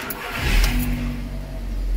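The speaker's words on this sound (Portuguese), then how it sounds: "vamos dar uma partida aqui" A car engine cranks and fires for its first start of the morning, then settles into a steady, raised idle with a low hum continuing to the end, close and fairly loud.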